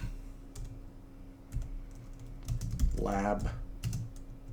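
Typing on a computer keyboard, a faint scatter of light key clicks in uneven bursts, with a brief spoken word partway through.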